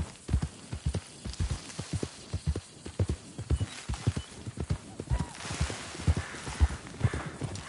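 Horse hooves clip-clopping in a steady trotting rhythm in a video game, close and clear, with faint background ambience.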